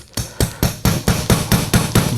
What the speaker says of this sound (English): Just hammer this out